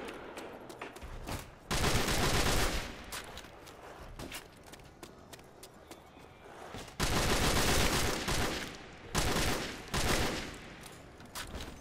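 Bursts of rapid automatic gunfire in Call of Duty: World at War, long loud volleys broken by quieter gaps with footsteps and shorter single shots.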